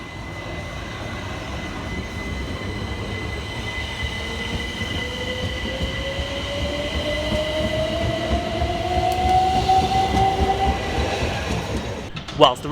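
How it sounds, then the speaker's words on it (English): A pair of South Western Railway Class 444 electric trains pulls into Southampton Central station, a steady rolling rumble that builds up close, with long rising wheel squeals and brake whine as the train slows to a halt. "arriving in the background is 444010 and 444013, with the 1324 South Western Railway service of London Waterloo through to both Weymouth and Poole."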